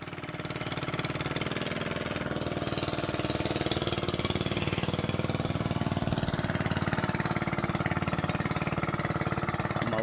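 A water pump engine runs close by in the midday heat, a loud, steady chugging drone with a fast, even pulse that continues unbroken throughout.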